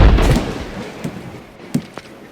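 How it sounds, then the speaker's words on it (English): A crashing sound effect of a ton of pumpkins piling onto a stack, with a heavy rumbling crash that fades and then a few scattered knocks and thuds. "a ton of pumpkins piled on the stack, with a bang and a bash and a crunch and a crash"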